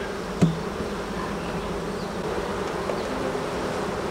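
Honeybees buzz steadily around an open hive during a split into honey supers, a dense continuous drone close by with one brief knock near the start and no speech.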